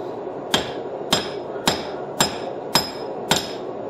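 Six evenly spaced metallic hammer strikes ring out, about half a second apart, as a blacksmith peens over a rivet while forging a set of flat jaw tongs; each blow is sharp and close with a brief ringing tail.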